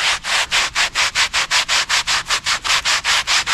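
Hand sanding block rubbed over fiberglass filler in fast, even back-and-forth strokes, about five per second, loud, close and rasping, with no talking.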